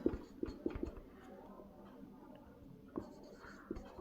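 Pen scratching on paper while math is worked out, a few short strokes near and close, then quieter writing with soft rustles, no talk.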